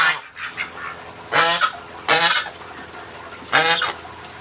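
Permaculture geese honk in three loud, separate bursts, each a short run of harsh nasal calls, with quieter farmyard bird noise between them.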